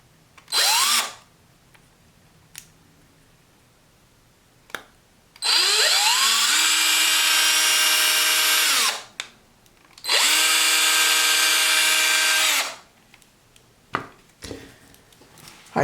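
A power drill with a 1/16 bit drills into a plastic action-figure joint: one brief whir, then two longer loud, steady whining bursts with spin-up and spin-down, broken by quiet clicks and handling sounds.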